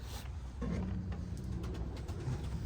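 Tumbler pigeons in a loft give a low, close cooing that rises in short throaty pulses, faint and brief with a little rustling.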